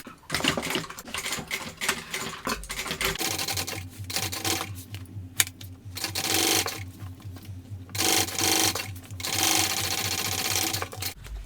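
A sewing machine stitches a trim panel for a Baby Belle bucket bag in several bursts of rapid rhythmic needle chatter, separated by short pauses and fabric handling, close and clear.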